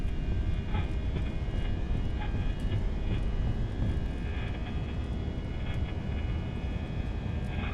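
Simulated airliner jet engines spool at takeoff thrust during a departure from Denver International in X-Plane 11, a steady, loud broadband roar with faint tonal whine, continuous and unbroken, with no talk over it.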